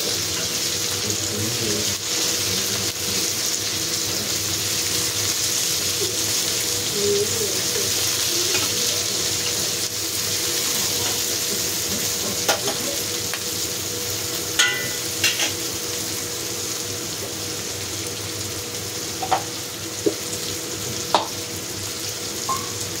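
Green chilies cooking in a pan over a low flame give a steady, soft sizzle throughout, with a few faint clinks of utensils now and then.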